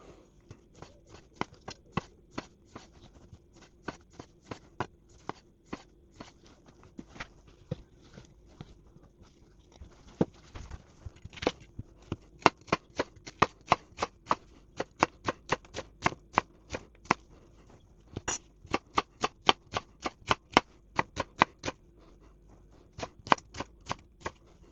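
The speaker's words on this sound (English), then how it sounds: "I'm gonna cut it for smaller pieces because we don't want the big piece of skins over there." A knife chopping pork skin into small pieces on a cutting board in a home kitchen, with many sharp, quick taps in irregular bursts, close and fairly quiet.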